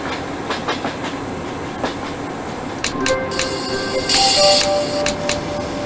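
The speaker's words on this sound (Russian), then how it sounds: "На четвертый путь платформу номер 3 прибыл скорый поезд номер 104." Express passenger train arriving at a station platform, with steady rumbling wheel noise and rhythmic clacking over rail joints, growing louder toward the end with a brief squeal of brakes.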